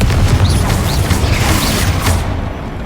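A Confringo blasting spell in Hogwarts Legacy, heard as a loud booming crash with a rumbling low end and brief whooshing flourishes, fading at the end.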